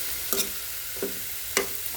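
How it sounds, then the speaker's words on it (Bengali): Mustard greens dropped into hot oil with browned garlic, a continuous sizzle broken by three sharp clanks of a spoon against the pan at uneven intervals, close and fairly loud with no talking. "সরিষার শাকটা আমি বাগার দিয়ে দিলাম।"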